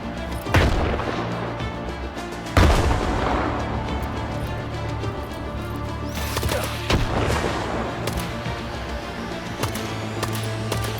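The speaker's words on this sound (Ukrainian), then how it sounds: "Кидай гранату і вбігаємо." Combat in the video game STALKER 2: two heavy booming blasts, one near the start and a louder one at about two and a half seconds, sit within continuous gunfire and rumbling battle noise with no speech.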